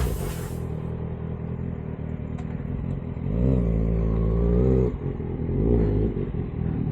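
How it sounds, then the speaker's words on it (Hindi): A 2024 Kawasaki ZX-6R's exhaust is revved twice, a deep throaty rise held for over a second, then a shorter second blip, over a low idle rumble, close and loud. "देखो ज़रा रेव कैसा फील आ रहा है एग्जॉस्ट का"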